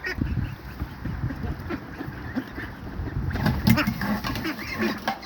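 Ducks quack and honk softly amid windy outdoor background noise, with scattered calls throughout and a few louder bursts toward the end.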